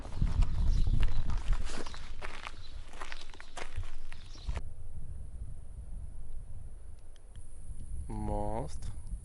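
Footsteps on a late-night evening walk outdoors, a steady run of steps that fades into a quiet stretch, with talk over the first part.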